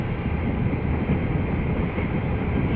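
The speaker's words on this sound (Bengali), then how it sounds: "দেওয়ালগঞ্জ এক্সপ্রেস ট্রেনটি যাত্রী নেওয়ার জন্য কিভাবে কমলাপুর রেল স্টেশন প্ল্যাটফর্মে যাচ্ছে দেখুন" Dewanganj Express train rolls slowly toward the Kamalapur station platform, a continuous dense rumble of wheels and carriages with wind buffeting close to the microphone.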